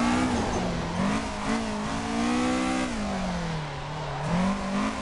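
A car drifts in the racing sim Assetto Corsa, its engine holding a loud, sustained wavering note with pitch swings as the throttle is worked, mixed with tyre noise and no talk.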